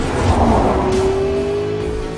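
A McLaren P1 engine in the racing game Forza Motorsport 5, a loud steady drone whose pitch climbs smoothly as it revs, close and continuous throughout.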